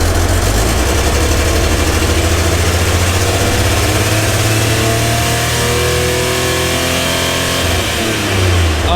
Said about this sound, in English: At high RPM, she runs really smooth.